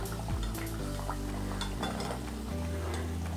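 Fried badusha lifted out of a kadai of hot oil with a metal utensil: steady sizzling of oil with light metallic clinks and scrapes against the pan, close and continuous, no talking.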